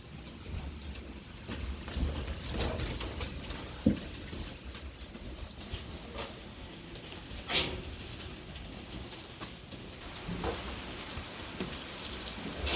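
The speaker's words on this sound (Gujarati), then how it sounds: "અત્યારે વરસાદ એ ઝીણો ઝીણો ચાલુ જ છે" A light drizzle patters softly and steadily on a cattle farm, a faint continuous hiss with occasional louder drops.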